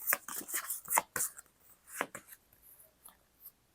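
Oracle cards being shuffled by hand, giving quick close papery slaps and brushing riffles in irregular bursts that thin out into softer rustles, with no talking.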